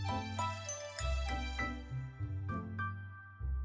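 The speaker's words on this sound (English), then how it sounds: "A customer just rang the bell." A shop bell rings in a series of bright metallic dings, about five or six distinct strikes with ringing tails over a low hum, close and without speech.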